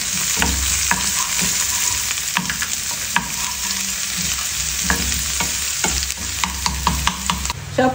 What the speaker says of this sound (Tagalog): So, after nating naigisa yung ating bawang